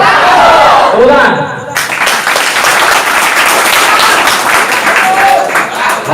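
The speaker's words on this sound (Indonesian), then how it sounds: "Tepuk tangan." A large crowd at a GP Ansor and Banser gathering in Mimika, Papua breaks into loud, sustained applause with some crowd voices mixed in, after a brief louder noise near the start.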